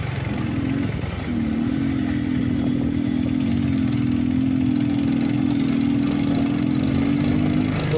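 A motorcycle with an overheated engine runs after a restart, a steady close engine drone holding a constant low hum with a brief dip near the start, no voices.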